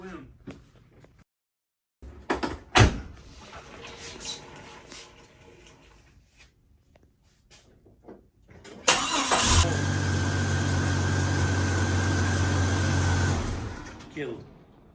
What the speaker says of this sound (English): We'll give it a crank and we'll make sure that code's gone.